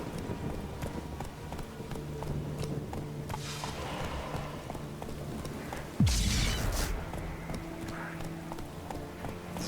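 Steady rhythmic hoofbeats of a horse galloping in The Witcher 3 game, with a sudden louder whoosh partway through, set against a constant low background hum.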